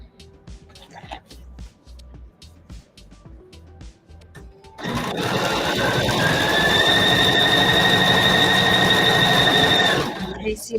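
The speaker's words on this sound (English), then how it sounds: "Over to the sewing machine." A sewing machine stitches fabric pieces placed right sides together for freezer-paper foundation piecing. It starts partway through and runs as a steady, close, continuous whir for about five seconds, then stops.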